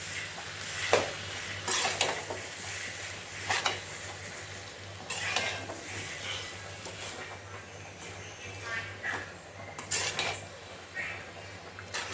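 Egg noodles are mixed in a pan with a utensil, making repeated scraping and clattering strokes that rise and fall steadily at close range.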